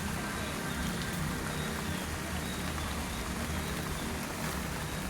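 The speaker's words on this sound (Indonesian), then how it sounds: "sedang gerimis" Light drizzle falls in a forest, a steady, soft broadband hiss of rain on leaves and surfaces that holds even and continuous throughout, with no voices.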